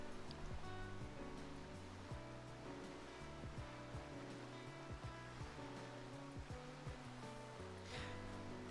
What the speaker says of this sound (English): looks like you got a good rapid going under the bridge here.